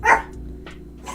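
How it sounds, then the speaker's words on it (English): A dog barks sharply once, close and loud, then a softer yelp follows, with a low hum underneath. "Crazy dogs."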